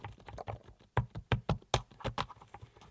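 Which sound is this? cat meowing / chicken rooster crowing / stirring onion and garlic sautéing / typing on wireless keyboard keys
typing on wireless keyboard keys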